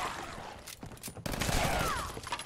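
Bursts of rapid gunfire from the Crossfire weapon in Fallout 4, loud and close, with dense overlapping shots through most of the stretch and a brief lull partway.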